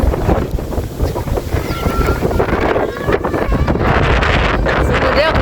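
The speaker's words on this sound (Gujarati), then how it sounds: "ઓય પવન તો જો" Strong storm wind roars across the microphone in open farmland, a loud, steady gusting rush that fills the whole clip with blustery buffeting.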